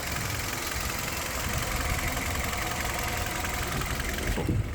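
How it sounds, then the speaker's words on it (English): 2019 Hyundai Venue's small engine idling quietly, a steady soft hum heard close with no voices, ending in a brief clunk. "Very, very quiet little motor."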